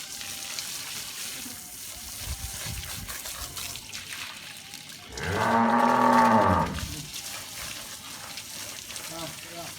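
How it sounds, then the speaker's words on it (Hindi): A buffalo that has just been vaccinated gives one loud, drawn-out moo lasting around two seconds midway through, close by, over a steady outdoor background noise. "भैंस डर गई थी क्योंकि आज इन्हें टीके लगे हैं"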